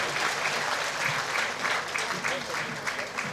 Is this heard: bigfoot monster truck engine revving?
no